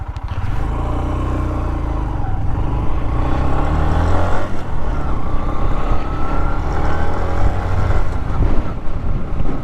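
A 2023 Honda CB125F motorcycle engine drones steadily while shifting down through the gears into first, its pitch dropping and rising in stages over constant wind rush, no voices.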